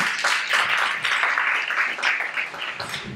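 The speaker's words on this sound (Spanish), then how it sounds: "Ahora sí, aplauso merecido" Applause from a crowd at a cultural presentation event, a dense, steady wash of many hands clapping close by for the full few seconds with no talk over it.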